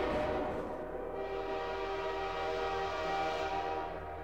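A train rumbles steadily past in a horror video game, with dense broadband roar and sustained horn-like tones throughout, loud and close with no pause.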